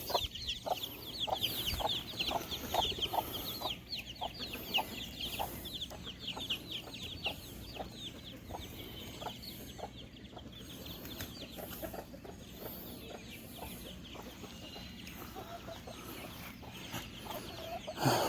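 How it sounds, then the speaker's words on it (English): Free-ranging chickens cluck repeatedly nearby in short, rapid bursts, several birds overlapping in a busy, steady flock chatter throughout. "the other chickens just don't really mess with them when we're free ranging them like this"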